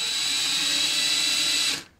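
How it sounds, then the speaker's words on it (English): An electric drill spins small model ship parts during grinding, giving a steady, close high-pitched whine that runs evenly before cutting off near the end, with no talk. "I put them in my electric drill here,"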